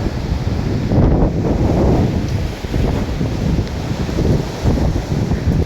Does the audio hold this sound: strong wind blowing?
yes